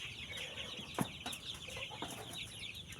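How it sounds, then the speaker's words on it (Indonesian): Chickens, Indonesian poultry penned in a coop holding blocks of about 200 birds each, cluck softly and intermittently over a steady ambient hum. "Ini ayam-ayam kita yang ada di kandang."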